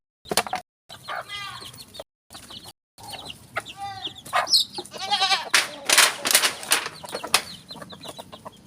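Goats on a farm bleat repeatedly in wavering calls while being fed coconut leaves, close by, with chickens clucking around them and brief pauses between bursts.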